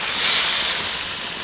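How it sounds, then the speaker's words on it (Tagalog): Water pours into a pot of meat on the stove, a brief broad hissing splash that swells and then settles, with no voices. "Ilalagay lang tayo ng tubig."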